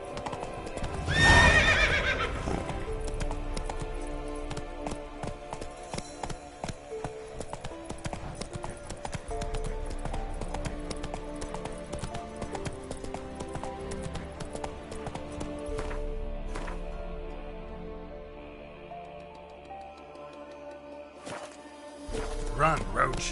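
Roach, a horse in The Witcher 3, gallops with steady rapid hoof clip-clop and a sharp neigh near the start, running under continuous game music and ambience with a brief shout.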